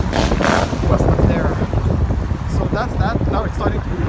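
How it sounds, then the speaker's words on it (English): Strong outdoor wind buffets the microphone in a city setting, a steady low roar with gusts that rise and fall throughout, and a voice talking faintly underneath. "Now it's starting to be really windy, so I don't even know if you hear what I said."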